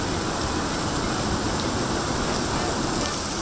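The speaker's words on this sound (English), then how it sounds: "That's a lot of rain, really fast." Heavy rain pours down fast in a dense, continuous roaring hiss, loud and unbroken, with no gaps or individual drops standing out.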